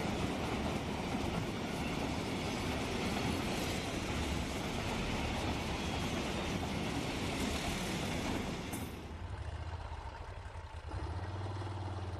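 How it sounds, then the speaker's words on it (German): A long downhill freight train of tank cars on the Frankenwald railway in Germany rumbles steadily past with a dense, continuous roar of wheels and cars, which drops off abruptly near the end, leaving a low hum. "Dieser talwärts fahrende Kesselwagenzug hat die Rampen gerade verlassen."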